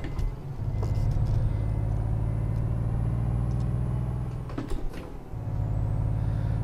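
A truck drives fast in Euro Truck Simulator 2, a steady low engine rumble with a brief dip and a clunk near the end before the drone resumes.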